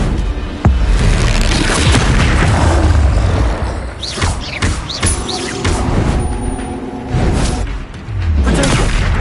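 Confringo explosive spell blasts in a Hogwarts video game: deep booming bursts and whooshing swishes over a dense, loud, continuous battle roar, with sharp impacts scattered throughout.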